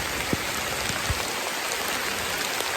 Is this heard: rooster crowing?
no